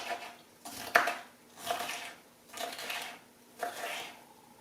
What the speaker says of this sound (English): So I'm just going to chop up half of this pepper.